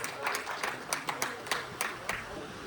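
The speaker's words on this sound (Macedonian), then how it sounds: "Аплауз, голема подршка." Audience applause for young football cup winners at a club jubilee ceremony, a steady patter of many hands with sharper claps standing out, moderately loud and continuous throughout.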